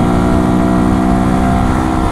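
A 125 cc Century motorcycle engine screams at high revs, pulling hard in the 7,000–11,000 rpm range, a loud, steady, buzzing drone heard up close with dense harmonics and no talking throughout.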